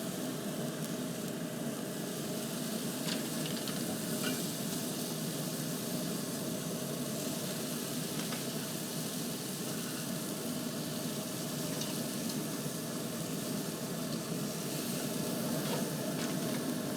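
Vegetables for smoked stuffed peppers sizzle on the bottom rack of a smoker grill, a steady low crackle and hiss held under a constant fan-like rumble for the whole stretch, with no talking.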